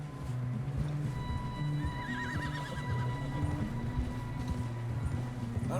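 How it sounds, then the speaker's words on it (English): A horse in Red Dead Redemption 2 whinnies with a wavering call over steady clip-clopping hooves and a low continuous rumble, close and fairly loud throughout with no talking. "Is this my horse?"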